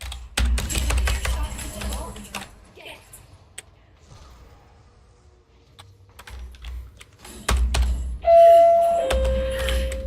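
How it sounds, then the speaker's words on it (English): A home doorbell chimes twice near the end, a clear two-tone ding following stretches of computer keyboard typing and clicking during a Guild Wars 2 gaming session, with someone talking intermittently. "That's my doorbell."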